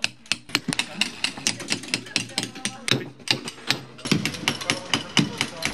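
Stone is hammered and chiseled at a school sculpture workshop: close, irregular runs of sharp metallic taps and knocks that continue steadily throughout, with a faint murmur of voices in the background.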